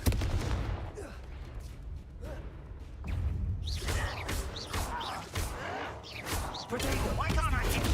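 Confringo spell blasts in Hogwarts Legacy, a series of crackling fiery explosions and whooshes over roughly eight seconds, with voices calling out amid the dueling.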